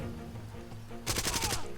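Shotgun blasts in the video game Far Cry 2, a burst of several loud, closely spaced booming shots erupting suddenly after a stretch of quieter game ambience.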